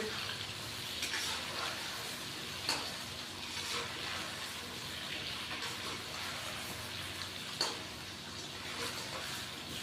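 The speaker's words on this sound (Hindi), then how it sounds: "तीन से 4 मिनट के लिए हम आलूओं को फ्राई कर लेंगे।" Potatoes fry in oil with ginger-garlic paste in a karahi, a soft continuous sizzle broken by occasional scrapes and clinks of stirring, fairly quiet and without talking.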